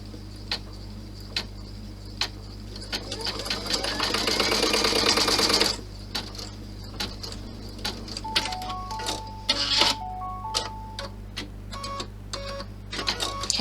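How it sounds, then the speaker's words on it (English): An embroidery sewing machine stitches out a placement line: a quick run of rapid mechanical stitching swells for a couple of seconds, followed by scattered clicks, ticks and short electronic beeps. "I'm going to stitch out the placement for the first one."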